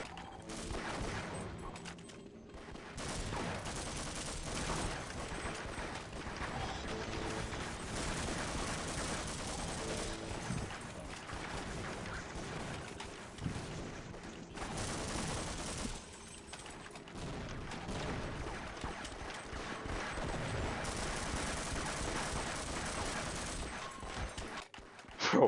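Shotgun gunfire in the video game Half-Life, dense continuous bursts of gunfire and booms filling the whole stretch with brief lulls, fairly quiet overall.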